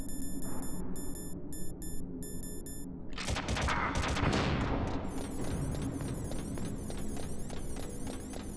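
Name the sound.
gunfire shooting at the player in Metal Gear Solid video game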